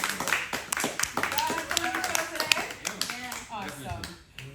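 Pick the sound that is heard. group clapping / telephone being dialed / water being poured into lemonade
group clapping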